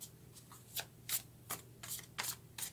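Tarot cards are shuffled by hand in a quiet room, about eight short riffling bursts in an uneven rhythm, close and fairly soft with no talking.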